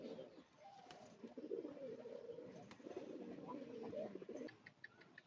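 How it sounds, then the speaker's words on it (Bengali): A male pigeon coos close by in a continuous series of soft, throaty rolling calls, fairly quiet against a still background. "এটা হচ্ছে নর পায়রা।"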